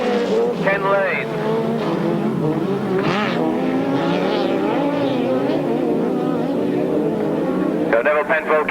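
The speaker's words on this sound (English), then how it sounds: "Engine revs are rising." Grasstrack racing motorcycle engines rev together at the start of a 1993 race meeting, giving a loud, rising, wavering roar with overlapping engine notes, while an announcer talks over them.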